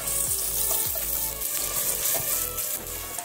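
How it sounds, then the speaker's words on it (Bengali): Chopped onions sizzle steadily in a hot pan with oil, a dense continuous frying hiss broken by several soft scraping stirs of a spoon, close up with no talking. "কুচানো পেঁয়াজ এর মধ্যে দিয়ে দিলাম। দিয়ে একটু নাড়াচাড়া করে নেব।"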